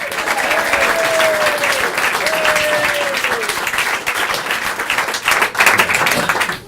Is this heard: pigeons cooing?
no